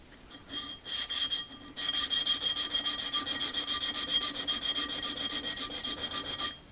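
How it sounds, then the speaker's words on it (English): Blade from a Stanley 12-101 trimming plane rubbed back and forth on a coarse sharpening stone, a steady, rhythmic, close gritty scraping with short strokes at first, then continuous. "let's sharpen this blade. Okay, I am going to start with"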